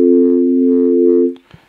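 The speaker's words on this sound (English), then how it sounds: "And that's just a straight sine wave." A steady, pure sine-wave carrier tone from an FM synthesizer holds for just over a second, then cuts off, followed by a faint click.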